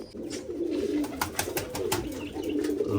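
Pigeons in a loft coo close by in a low, throaty, repeating murmur that runs steadily through the moment.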